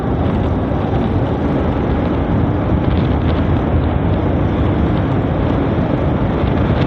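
Strong wind blows outdoors as rain approaches, a loud continuous roar buffeting the microphone, unbroken and without voices.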